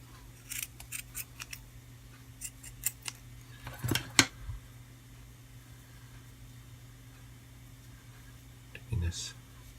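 Scissors snipping a yarn tassel end, a few quick, close, faint clicks and snips in a quiet room, with a couple more clustered near the middle.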